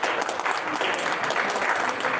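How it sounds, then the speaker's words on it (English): A room of people claps for women at a Kiwanis Club luncheon during Women's Month, a short burst of dense, steady applause heard close and full throughout. "Can we just give a hand clap for women?"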